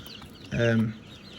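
A single short cluck from a silkie chicken stands out against quiet background noise.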